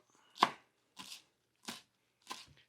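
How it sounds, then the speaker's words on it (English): Four crisp knife chops through cilantro on a cutting board, spaced roughly evenly at a steady unhurried rhythm, close and clear with nothing else around them. "I've got half the bunch of cilantro here. And I'm just going to run through, give this a quick fine chop."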